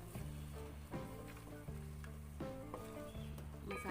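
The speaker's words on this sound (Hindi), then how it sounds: "मसाले में भून लूँगी अच्छी तरीके से आलू को" Potatoes fry in masala in a pan for an egg and potato curry, giving a quiet, steady sizzle broken by soft stirring clunks at regular intervals.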